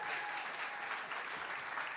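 Steady, dense applause from an audience at a pop music showcase fills the whole stretch, loud and continuous with no voices standing out.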